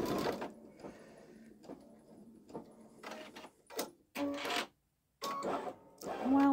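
A Babylock Solaris Vision embroidery machine stitches out a flower design up close, its mechanical whirring coming in uneven bursts broken by short pauses and stops.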